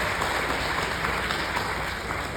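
Steady, dense applause from a keynote audience in a university hall in Manila, continuous and even across the clip with no voices over it.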